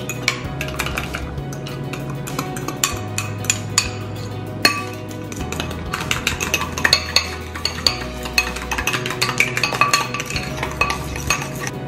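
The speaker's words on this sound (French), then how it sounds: "Mélanger avec les ingrédients secs." Keto cake pop batter being mixed with dry ingredients in a bowl, a utensil scraping and clinking against the sides in a steady, irregular rhythm with sharp knocks, close and alone under a low hum.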